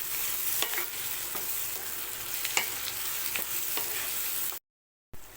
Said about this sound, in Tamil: தக்காளி நல்லா வதக்கிட்டு ஏரா போடுவோம்